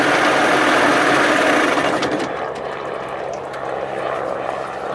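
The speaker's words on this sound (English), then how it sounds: "let me cut the motor off and see what the rest of it does." A 1979 Evinrude 55 hp outboard motor runs loud and steady for about two seconds, then cuts off, leaving a quieter lingering mechanical hum with no talking.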